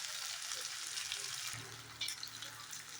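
Fish frying slowly on low heat in a pan makes a faint, steady hiss of quiet sizzling, with a brief louder crackle and clink partway through as it is turned.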